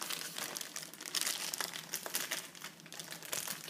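Packaging for a tablet keyboard is torn and crumpled during unpacking, a close, continuous crinkling and rustling with several sharper rips.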